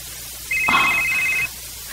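A mobile phone rings with a short electronic tone burst lasting about a second, clear and moderately loud over a steady background hiss.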